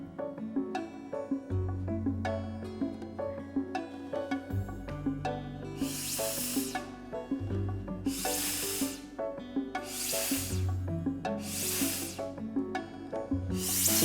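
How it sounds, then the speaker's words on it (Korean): A homemade sprayer built from drinking straws blows water in five short, hissing bursts at a steady pace, heard over continuous background music. "다 만든 빨대 분무기로 직접 물을 넣고 뿌려볼까요?"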